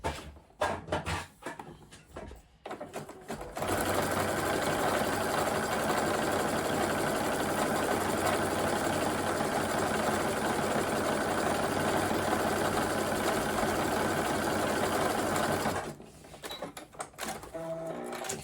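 A sewing machine runs a continuous zigzag stitch along a raw fabric edge, finishing the seam allowance to stop fraying, a steady loud mechanical whir lasting about twelve seconds with quieter handling noises before and after.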